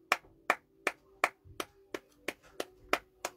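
Congregation clapping in rhythm during a church service, about ten sharp, evenly spaced claps in steady time, close and fairly loud, with a low sustained tone beneath.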